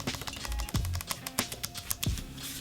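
Flat, buttony keys on a CME Xkey MIDI keyboard being pressed, a quick uneven run of soft clicks and taps close by with no talking.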